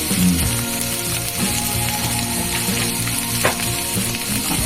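Soybean chunks fry in a pan with a loud, steady sizzle and crackle, close up and continuous, with a faint clink of a utensil and no talking.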